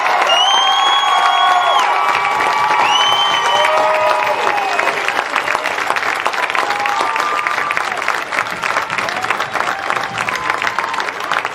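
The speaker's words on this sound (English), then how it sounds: "Let's have a round of applause for our third row graduates." Loud audience applause for a row of graduates at a high school graduation ceremony, sustained clapping mixed with cheers, whoops and shouting from the crowd throughout.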